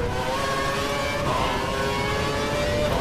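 Formula One car engine from the F1 2012 racing game at the Montreal circuit, a steady high-pitched whine with sustained tones and no voices.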